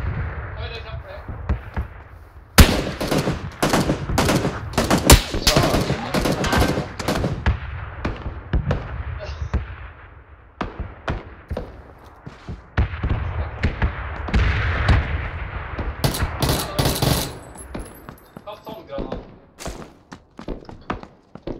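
Video game gunfire erupts in a fight over an airdrop crate, with dense rapid bursts and single shots repeating across about twenty seconds, loud and close, mixed with excited voices.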